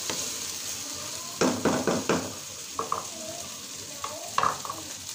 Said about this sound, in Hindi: अब मैं इसमें ऐड कर दूँगी 2 स्लाइस लेमन के और इसको लाइट सी फ्लेम पे रखूंगी